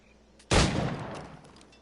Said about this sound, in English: How many times do I have to shoot all these guys?